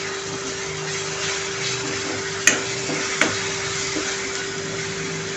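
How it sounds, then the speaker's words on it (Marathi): Ginger-garlic paste frying with onions in a pan gives a steady, low sizzle and hiss close up, with a constant hum and two sharp clinks of a spoon against the pan. "ती देखील कांद्यासोबत फ्राय होईल।"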